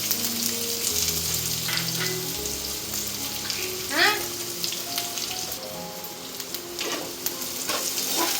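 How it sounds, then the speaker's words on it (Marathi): Onion with a few garlic cloves frying in a pan, a steady close sizzle with occasional stirring scrapes, while a faint music bed sits underneath. "कांदा छान लालसर रंग येईपर्यंत परतून घ्यायचा आहे"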